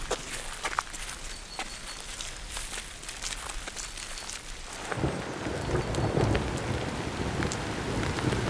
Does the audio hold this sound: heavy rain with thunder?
yes